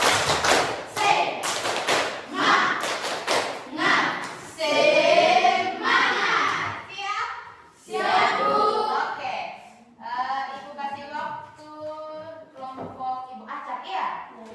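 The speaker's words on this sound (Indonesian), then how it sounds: "Tepuk semangat." A group of people performs the rhythmic 'tepuk semangat' clapping chant, with bursts of patterned claps alternating with loud chanted voices that carry the rhythm throughout.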